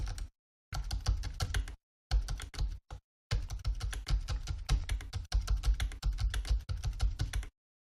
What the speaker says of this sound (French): j'étais en train de taper sur le clavier de l'ancienne Focus, qui, somme toute, était quand même assez bruyant.